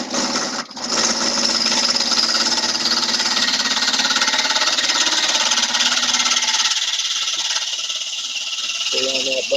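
A wood lathe turns a three-sided bowl, giving a loud steady whirring drone with a gouge cutting against the spinning wood. Someone talks over it, and the cutting noise thins toward the end.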